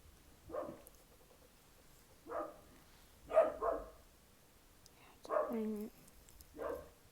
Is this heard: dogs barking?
yes